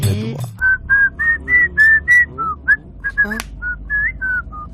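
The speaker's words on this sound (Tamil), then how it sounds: "இன்னைக்கு நீங்களே விசில் அடிக்கிறீங்க" A person whistles a lively tune, a string of clear, sustained notes rising and falling with short breaks, close and fairly loud.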